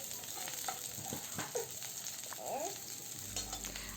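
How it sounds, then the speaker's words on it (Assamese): Onions sizzle and fry in hot oil in a pan for curry, a steady crackle with occasional stirring scrapes, close and fairly quiet, with no talking. "তেলখিনি গৰম হ'লত মই প্ৰথমতে পিঁয়াজখিনি দি ল'ম"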